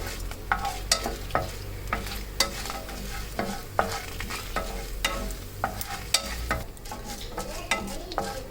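Urad dal roasting in a pan for a chutney, with steady scraping stir strokes and a soft dry sizzle repeating throughout at close range, no voices.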